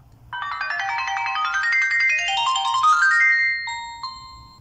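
An Ark Benefit M1 budget Android 4.2.2 phone plays its power-on startup jingle, a clear rising electronic melody of quick bright tones that ends in a few sustained chimes, with no speech.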